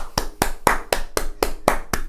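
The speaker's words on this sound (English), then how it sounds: "I wanna applaud to myself." One person claps for himself, eight sharp, evenly spaced claps in a steady rhythm, loud and close, with no talking.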